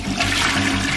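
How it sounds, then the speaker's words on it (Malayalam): A toilet flushes in a video game, a brief one-second rush of gushing water that holds steady and loud from start to finish. "നമുക്ക് ബേബിനെ ഒഴുക്കി കളഞ്ഞാലേ"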